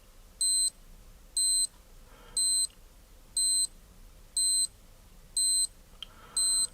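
A 1985 Citizen 300M Shock-Resist P130 watch timer alarm beeps in seven evenly spaced, high, piercing bursts about once a second, close and clear over a quiet room.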